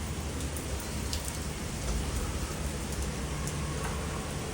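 A rain shower falling in Bangalore gives a steady, close hiss of drops striking surfaces, with a few sharper individual splashes and no voices.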